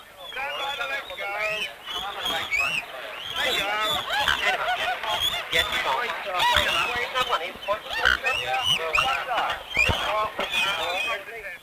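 Mute swans and cygnets in England give a dense, overlapping chorus of honking and chattering calls, loud and close, keeping up continuously for several seconds.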